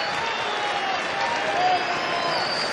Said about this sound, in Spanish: Caen los aplausos porque sale Universitario al campo.